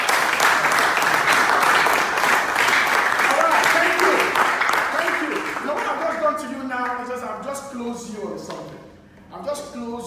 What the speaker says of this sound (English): Clapping for my friend, all right?